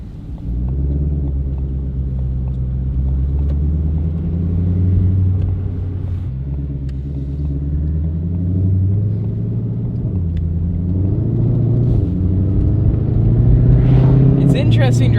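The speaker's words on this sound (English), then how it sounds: "It's interesting driving a Shelby that's an automatic" A 2020 Shelby GT500 with an automatic gearbox cruises along with a low, steady engine rumble that rises and falls through gear changes, heard from inside the car as people talk throughout.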